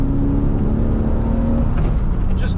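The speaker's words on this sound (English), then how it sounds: "The flat six sounds pretty damn good, especially when you've got the roof down." A Porsche 986 Boxster S with its flat-six engine drives along roof-down, a loud, steady, close engine drone with a gentle rise near the end and no voices.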